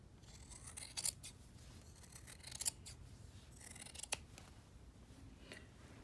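Scissors trimming quilted jacket fabric at the seams, a few quiet, close snips spaced apart with soft rustling of the padded cloth between cuts.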